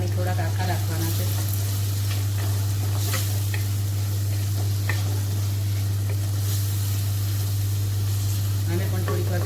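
Tomatoes hit a hot pan with onions and sizzle in a loud, continuous frying hiss, with faint stirring over a constant low electrical hum.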